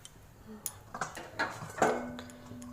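A cooking pot of chicken curry is covered with a lid, giving a few separate metallic clanks and clatters spread over a couple of seconds, moderately close with no talking.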